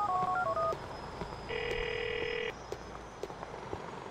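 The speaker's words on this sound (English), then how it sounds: "Answer phone message." An answering-machine message plays on a phone in the video game GTA 4: short electronic tones and beeps, then a long steady beep, fairly quiet against a low background.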